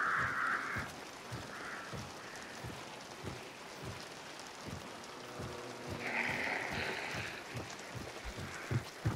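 Scared crows caw in short bursts in a video game, a few harsh calls rising over a steady wash of rain-like background noise and faint repeated thumps, with no one speaking.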